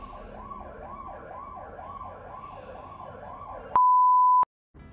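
Ambulance siren wailing in a steady repeating rise-and-fall near a hospital, fairly close and continuous, then cut off by a short loud electronic tone before brief silence.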